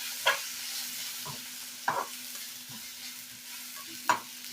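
Garam masala and chili powder fry in a pan, a soft low sizzle broken by three sharp stirring scrapes spaced over a few seconds, with a faint steady hum underneath.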